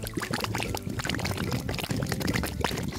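Water is poured into a baking soda and food coloring mixture for a home science experiment, giving a short, continuous splashing pour with small gurgles.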